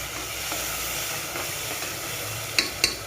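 Spoon stirring ground masala into chicken gravy frying in a pan, a soft steady sizzle with a few sharp clinks of the spoon against the pot near the end, close and quiet.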